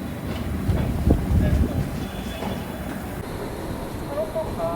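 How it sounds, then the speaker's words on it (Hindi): Madgaon Rajdhani Express running after leaving Hazrat Nizamuddin station, heard from inside a 3AC coach: a steady rolling rumble with some rail clatter and faint squeals. Voices murmur in the background. "फाइनली 8:38 पर हमारा डिपार्चर हो चुका है हजरत निजामुद्दीन रेलवे स्टेशन से"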